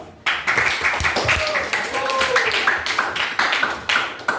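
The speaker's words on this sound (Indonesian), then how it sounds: "Silakan berikan tepuk tangan dulu." A school crowd gathered for a student council (OSIS) election claps in an uneven patter of many hands, with sharp nearby claps over a murmur of students talking, and a voice rising briefly partway through.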